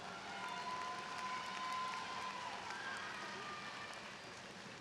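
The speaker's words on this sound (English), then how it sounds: "Go ahead and give that a round of applause." A high school graduation audience claps for a student with career tech certifications, a faint, distant, continuous wash of applause filling the hall evenly for several seconds.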